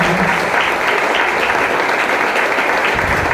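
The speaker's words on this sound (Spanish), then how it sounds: "¡Qué fuerte el aplauso!" Strong, dense applause from a church congregation, a loud continuous wash of many hands clapping at once with no letup.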